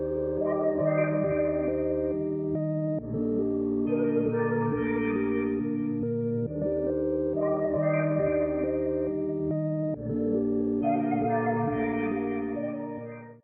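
A layered synth melody with chorus and echo repeats in looping phrases, chords shifting every few seconds, steady and full throughout.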